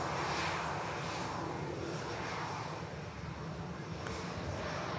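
A Virgin Atlantic airliner lined up at Manchester Airport gives off a steady, distant jet engine roar with broadband rushing noise and a little wind, unchanging for the whole stretch.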